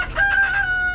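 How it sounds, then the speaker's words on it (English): A chicken near the coop crows and clucks up close, a short loud call with a steady tone. "say hi to the chickens"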